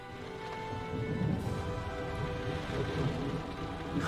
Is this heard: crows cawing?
no